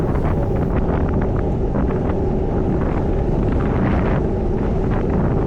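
Strong wind roars and buffets the microphone continuously at an outdoor cyclo-cross race in Carvin, France, loud and close, with a rushing, water-like texture throughout.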